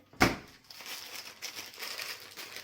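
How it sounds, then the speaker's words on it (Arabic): A plastic bag of salt is handled in a kitchen while turnips are being pickled: one sharp rustle up front, then softer, steady crinkling that fades slightly over the next two seconds. "هبدا اجيب كيس الملح بتاعي"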